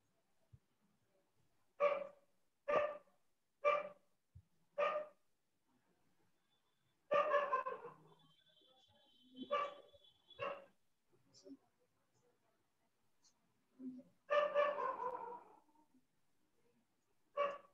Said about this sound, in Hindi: आपने कुत्ता पाला हुआ है या फिर बाहर वाला कुत्ता की आवाज आ रही है?